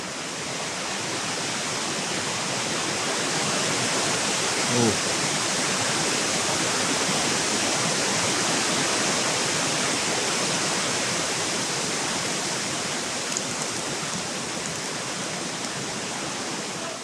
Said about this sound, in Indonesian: Tuh lihat cuaca, anginnya kencang.